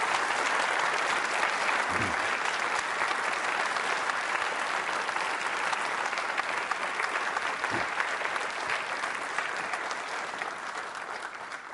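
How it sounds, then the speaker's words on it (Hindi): Audience at a Holi-themed university quiz show applauding loudly, a dense, steady wash of clapping that holds throughout and eases slightly toward the end. "तालियां उनके लिए और अपने लिए जोरों से बजाइए आप।"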